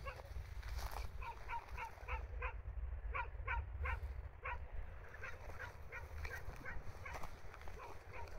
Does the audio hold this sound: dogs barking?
yes